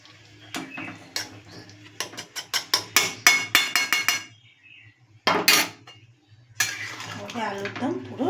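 A metal spoon stirring ghee into Kashmiri aloo dum with peas in a pan off the heat, a run of quick sharp clanks against the pan, a pause, then more scraping and tapping, close and clear.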